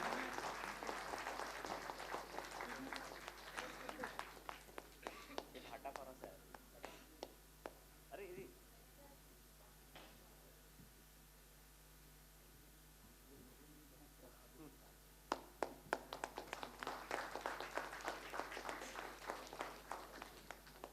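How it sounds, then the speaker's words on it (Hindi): Audience applause at an honouring ceremony during a school education event, a mid-level burst of clapping at the start, then quieter scattered sounds, before a second strong round of clapping swells near the end. "तालियों में कमी मत करें और जोरदार तालियों से इनका सम्मान करें।"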